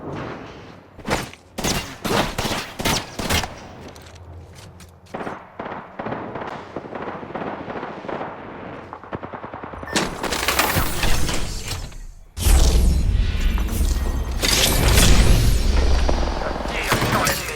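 Rapid bursts of gunfire from the battle royale video game Apex Legends, with sharp cracking shots in quick volleys and loud sustained firing near the end, heard alongside game voice lines.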